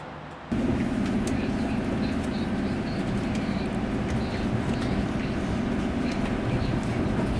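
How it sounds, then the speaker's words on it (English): Express train on the Blaxland railway rushing past close by, a steady loud rumble and clatter that starts abruptly and holds, with faint birdsong above. "Here comes the express train to the city."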